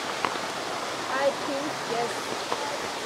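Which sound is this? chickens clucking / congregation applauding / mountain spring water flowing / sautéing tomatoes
mountain spring water flowing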